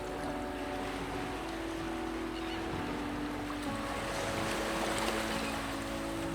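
Steady, continuous wash of ocean waves and surf with wind, heard close and at an even level with no voices.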